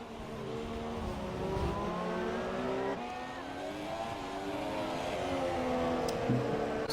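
Formula 1 cars in the F1 2017 game at the Hungary circuit roar past with high, sweeping engine whines that climb and dip, fairly loud and continuous, without any voices.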